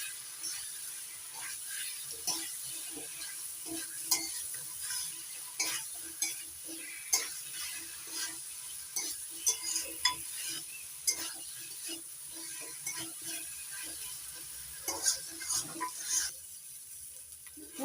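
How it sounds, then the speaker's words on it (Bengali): Fried potatoes being stirred and sautéed with spices in a pan, a steady sizzle beneath repeated scraping strokes of a spoon or spatula, close and moderately loud, with no talking. "ভেজে নেওয়া আলু মশলার সঙ্গে ভালো করে কষিয়ে নেব 2-3 মিনিট"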